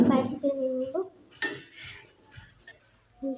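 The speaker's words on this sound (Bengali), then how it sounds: "তো এখন নুডলস বাটিতে নিয়ে নেব।" Fried noodles are served into a bowl at home, with a sharp clink of utensil on dish and a few softer knocks, while a person speaks over it.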